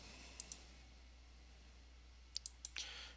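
A computer mouse clicking on the Next button of a Git installer on Windows: two faint crisp clicks, then a quick cluster of three more, close and isolated against a quiet room hum, with no talking.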